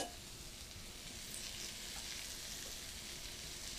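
Chicken with curry and coconut cream sizzles steadily in a pan, a soft, even frying hiss with a faint bubbling texture that continues without pause and without talk.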